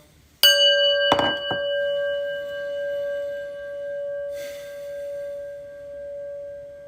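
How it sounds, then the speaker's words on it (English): A prayer bell is struck once and rings out with a clear sustained metallic tone that slowly fades over several seconds, preceded by a brief clank as it is handled. "listen to the prayer bell"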